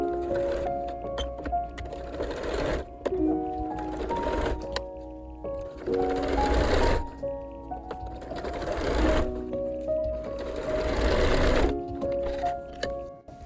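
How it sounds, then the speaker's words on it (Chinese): A sewing machine stitches the side seams of a stretchy gold dress bodice refashioned from an old skirt, running in several bursts of steady whirring with short pauses between runs, close and clear. "就可以把侧缝线给它们缝起来了"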